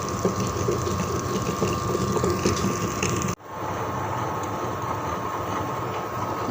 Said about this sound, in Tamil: இங்கே பாருங்கள் ஓடிட்டுருக்கு, கிரைண்டரில் ஓடிட்டுருக்கு.